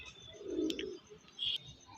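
An Andhra Kalanka pigeon gives a low, soft coo close by, a single rolling call followed by a brief higher chirp, with no talking.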